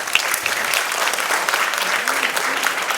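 Audience applause at a school dance programme, a steady dense clapping from a seated crowd that fills the whole stretch without pause.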